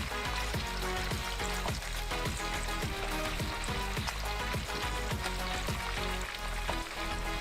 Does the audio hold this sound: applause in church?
no